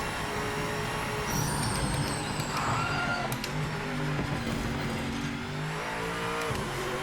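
Engine roar of a race car in the Project Motor Racing video game at Interlagos, steady and loud as it brakes for a corner, the pitch dropping with downshifts and a brief cut in the engine note.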